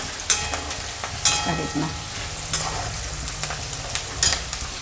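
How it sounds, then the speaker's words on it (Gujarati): Green chillies sizzle and crackle in hot oil as they are stirred in a pan, a steady frying hiss broken by periodic scraping strokes, close and fairly loud, with a brief spoken word over it. "તો થોડીક વાર તેલમાં મરચાંને આ રીતે ફેરવવાના."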